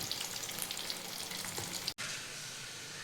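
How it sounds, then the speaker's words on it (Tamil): Fried rice vegetables such as cabbage, capsicum, carrot and beans fry in a hot pan for street-style chicken fried rice. A loud, dense, continuous sizzle runs alone, cut by one brief drop near the end. "எல்லாத்தையும் போட்டு வறுத்து எடுத்துக்கலாம்"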